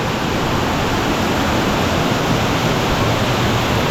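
A cold, high-pressure waterfall pours inside a cave in Bali, giving a loud, unbroken roar of falling water with no voices.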